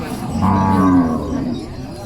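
Water buffalo at a Thai livestock market, a loud nearby lowing moo rising and holding for about a second over steady market background noise.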